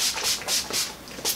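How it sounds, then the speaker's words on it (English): Setting spray misted onto a made-up face, five or six quick hissing spritzes in a steady rhythm, close and fairly soft. "I do set my foundation with my all-nighter setting spray."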